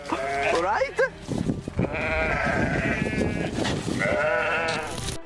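Several sheep bleat in wavering, overlapping cries against a busy, loud background of scuffling and noise, with continuous layered calls through most of the stretch.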